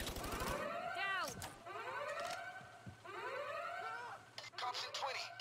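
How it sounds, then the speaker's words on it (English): A bank alarm in the heist game Payday 2 wails in repeated rising and falling siren sweeps, loud and steady, while voices shout over it. "And yeah, there goes the alarm."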